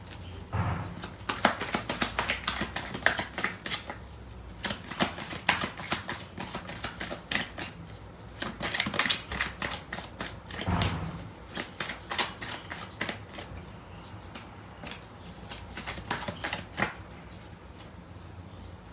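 Tarot cards are shuffled continuously up close, a dense stream of quick crisp riffles and flicks in uneven bursts over a faint background, with no one talking.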